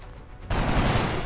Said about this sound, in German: Sehr schöner Schuss